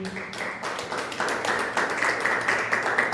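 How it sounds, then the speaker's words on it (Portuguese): A church congregation claps their hands in praise during a worship service, producing a close, steady run of clapping that builds and continues throughout. "As palmas louvam o Senhor."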